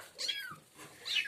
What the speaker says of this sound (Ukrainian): м'явкають